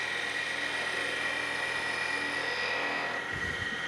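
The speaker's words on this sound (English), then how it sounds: "I can make a planing cut all the way around the corner." A skew chisel making a planing cut on a wood lathe spindle, a steady high whine of the spinning wood with a continuous hissing cut, close and even, ending in a few low knocks.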